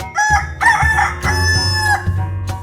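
A cartoon rooster in a 3D animal sliding video game gives a loud, close cock-a-doodle-doo crow, a few bright rising and falling calls with no other sound around them.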